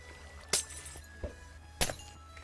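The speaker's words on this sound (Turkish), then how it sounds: "Orada bir cam sesini duyuyorum. Biri potion'umu atıyor bir yere." A glass potion bottle is thrown and shatters in Minecraft, heard as two sharp, bright breaking crashes about a second apart, with a softer thunk between them against a quiet background.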